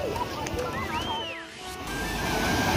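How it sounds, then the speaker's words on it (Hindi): The Jhapar river flows near a bridge by a village, a steady broad rush of water with a faint whistling tone above it and a brief dip midway. "देख सकते हैं झापर नदी बह रही है"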